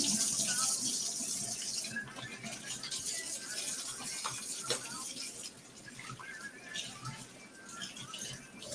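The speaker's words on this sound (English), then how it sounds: "I'm gonna wash my hands again." Running water from a kitchen tap splashes steadily into a sink as hands are washed during meal prep, a continuous close hiss with small spatters and no talk over it.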